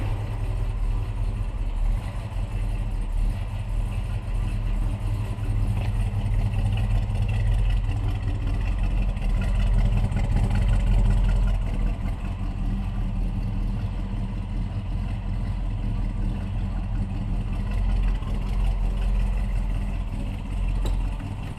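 A 1966 Impala wagon engine idles with an uneven, loping rumble, steady and fairly close, with no talking over it.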